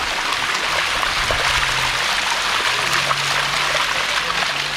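Water from a waterfall stream in a Thai national park rushes steadily and fairly close, a continuous broadband hiss with no breaks, while a faint low hum runs underneath.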